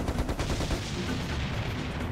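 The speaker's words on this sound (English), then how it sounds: "Secret Spanish cannon!" A cannon fires in the Serious Sam video game, a dense burst of booming, rapid gunfire-like blasts filling the whole clip with no voices over it.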